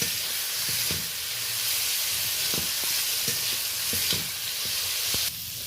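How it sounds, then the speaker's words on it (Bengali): Onion and tomato frying in a pan, a steady close sizzle and hiss broken by repeated light scraping and tapping of a spatula, dropping slightly quieter at the end. "পেঁয়াজ টমেটো বেশ ভাজা ভাজা হয়ে গেছে, লালচে হয়ে গেছে।"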